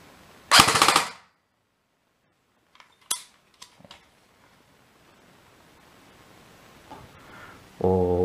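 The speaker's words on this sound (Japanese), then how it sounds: "フルオートでいきます。" A gun fires in full-auto mode: a single loud, dense burst of about half a second close by, followed by a few sharp mechanical clicks and faint rattles, then a brief buzzing tone near the end.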